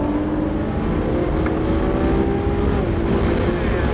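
A car accelerating on a cone-marked driving course, a steady loud engine drone with rising tonal whine, heard from inside and continuous throughout.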